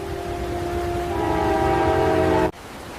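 Loud train horn blaring in a sustained chord over rumbling rail noise at a station boarding, holding steady for over two seconds before cutting off abruptly, leaving the train's low rumble.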